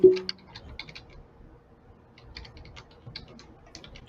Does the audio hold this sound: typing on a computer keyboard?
yes